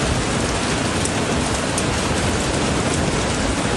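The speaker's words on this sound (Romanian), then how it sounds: "Și în Sibiu, instabilitatea atmosferică a dus la descărcări electrice și ploi cu gheață." Heavy rain mixed with hail pounds down steadily during a storm with freezing rain in Sibiu, Romania, a dense constant hiss with scattered sharp impacts and no voices.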